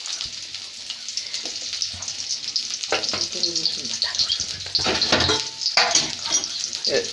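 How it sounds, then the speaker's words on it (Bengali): Onions fry in hot oil in a wok, giving a steady close sizzle with intermittent scraping stirs and clinks, loud and continuous. "পেঁয়াজগুলো আমরা ঠিক মতো ভাজতেছি।"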